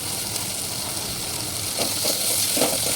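Whole garam masala spices and a bay leaf fry in hot oil for tomato rice, giving a steady, close sizzle and crackle that swells slightly toward the end.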